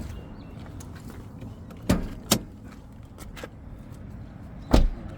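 Electric power windows on a Kia Rio with a 1.4 engine, several short motor whirs and clunks as the glass moves and stops, heard close in a quiet setting with no talking.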